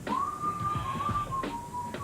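A man whistles a song, a short clear melodic line heard close and alone.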